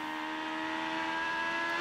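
IndyCar race cars on the short course at Infineon Raceway in the 2011 series, a sustained high-pitched engine whine held at a steady, even level, with no talking.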